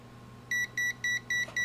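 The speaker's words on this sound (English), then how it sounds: "KT6000 that's beeping right now" A KASUNTEST KT6000 multimeter beeps at high voltage, giving five short, evenly spaced high-pitched beeps over a steady low electrical hum.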